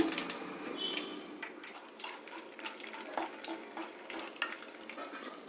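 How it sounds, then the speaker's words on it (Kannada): Mustard seeds and chana dal frying in hot oil for a South Indian pre-mix recipe, a crackling sizzle with sharp pops and spatters and occasional spoon-on-pan stirring. "ಎಣ್ಣೆ ಬಿಸಿಯಾಗಿದೆ ಸಾಸಿವೆ ಹಾಕ್ತಾ ಇದ್ದೀನಿ ಸಾಸಿವೆ ಸಿಡ್ದಿದೆ ಈಗ ಕಡಲೆಬೇಳೆ ಹಾಕ್ತಾ ಇದ್ದೀನಿ"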